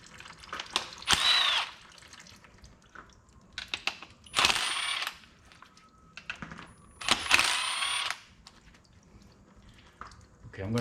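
A power tool whirs in three short bursts while loosening 10mm bolts on a car, with quieter clinks and handling noises between the runs.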